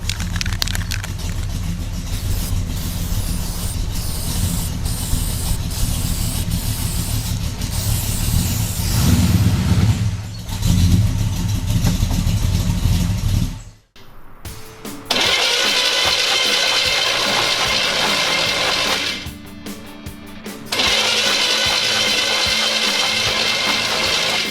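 Rebuilt car engine with a new camshaft being cranked over by the starter, a loud rapid whirring churn that runs for about ten seconds, cuts out, then resumes in further bursts after a short gap.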